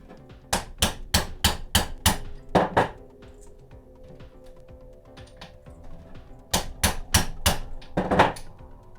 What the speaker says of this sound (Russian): вот я располовинил, выбил втулки эти все